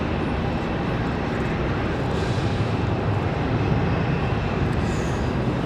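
An airliner flies past at Raleigh-Durham International Airport, its engines producing a continuous, fairly loud broadband roar that holds steady throughout.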